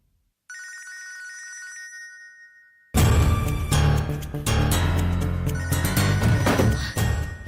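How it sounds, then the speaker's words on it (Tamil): A mobile phone ringing indoors: a thin electronic ring tone first, then a loud, full ringtone melody that plays on steadily and close by, with no talking over it. "உன் போன் தான் அடிக்குது, போய் பாரு."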